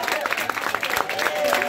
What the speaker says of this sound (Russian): Друзья, давайте еще раз поаплодируем.